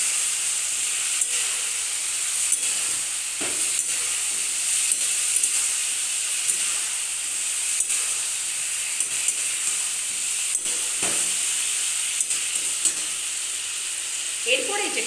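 Turmeric powder being stirred into vegetables (aubergine, ridge gourd, potato) frying in oil in a pan for a fish curry, giving a steady close sizzle with occasional soft scraping stirs, no talk.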